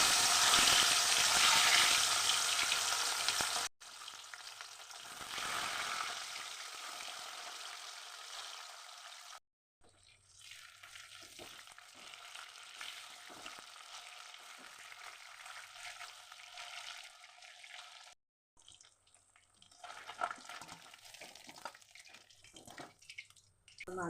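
Bhola fish pieces fry in very hot mustard oil, a strong crackling sizzle that is loudest at first and then settles into a softer, spitting hiss across several cut sections.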